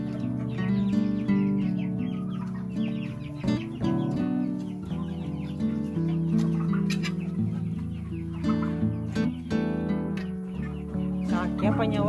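Turkeys and chickens in a poultry yard at a dacha cluck and call almost without pause, with loud, close, layered bird voices and a faint human voice now and then.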